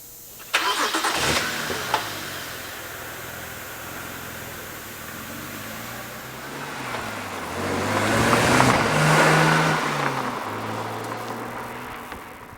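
A BMW Z4 3.0si Coupe engine starts with a couple of sharp bursts, settles into a low idle, then rises as the car rolls away and fades slightly.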